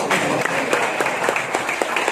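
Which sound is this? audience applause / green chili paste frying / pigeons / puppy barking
audience applause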